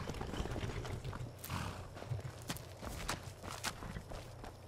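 A horse walking in Skyrim, its hooves clopping in an uneven run of close, distinct footfalls over a quiet background, with no voices.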